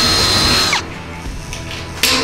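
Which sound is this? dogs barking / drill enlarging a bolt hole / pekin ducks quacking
drill enlarging a bolt hole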